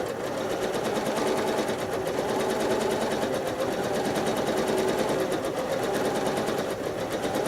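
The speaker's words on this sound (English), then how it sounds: "Listen to my machine as I stitch these sharp right angles." A sewing machine stitches free-motion quilting lines and sharp right angles, a steady fast mechanical whirring hum with rapid needle ticking, continuous and close with no talk.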